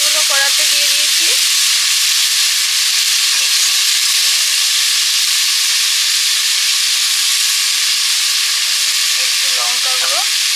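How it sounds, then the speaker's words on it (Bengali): Round potato slices fry in a kadai, giving a loud, dense, hissing sizzle that holds steady throughout. A few brief tonal squeaks come near the start and end, and no one speaks. "আলু ভাজাগুলো কড়াতে দিয়ে দিয়েছি।"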